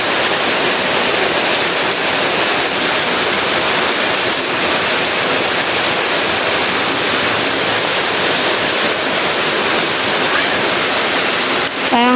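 Heavy rain pours down steadily on an outdoor building site where cement mix and concrete blocks are being laid for a bathroom, a dense, loud, continuous hiss with no let-up across the whole stretch.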